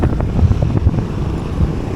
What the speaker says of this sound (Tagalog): Hangin, ang hangin mga kaibigan.